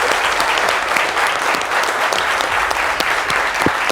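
A television studio audience applauds a Zouglou singer with loud, dense, continuous clapping. It holds steady throughout and has no voices over it.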